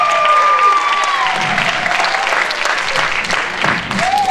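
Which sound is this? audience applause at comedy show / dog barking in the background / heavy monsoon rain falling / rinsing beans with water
audience applause at comedy show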